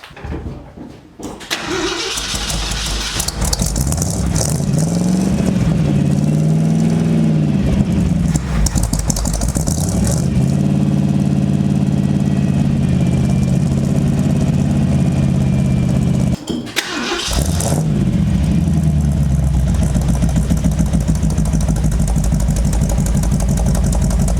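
A 1973 Ford F-350 pickup engine with a new exhaust system cranks and fires up, then rumbles loudly with a deep exhaust note, revving up and down, cutting out briefly before restarting and idling roughly.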